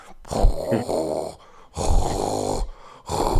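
A man imitates a French bulldog's labored, snoring breathing in repeated strained, raspy bursts separated by short pauses, close and fairly loud.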